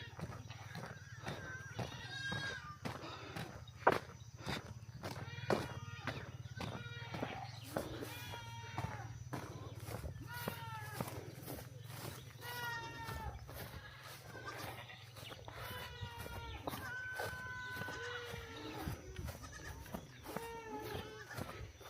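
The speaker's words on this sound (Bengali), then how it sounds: "ছাগলের বাচ্চাগুলো সব এখানে" Young goats bleat repeatedly at a livestock ranch in Uganda, short wavering cries rising over a constant low hum, with faint talk now and then.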